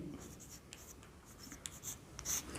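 Pen or pencil scratches out an answer on paper while working a class 9 maths exercise, soft and close with short scribbling strokes over a quiet room hiss.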